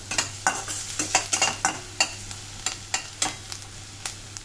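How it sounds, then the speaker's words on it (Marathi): Medium-cut onions for kandvani roasting in a pan until reddish, heard as a steady sizzle broken by a series of sharp scraping stirs, close and alone. "चांगला आता भाजून घेतला आहे, लालसर होत आला आहे."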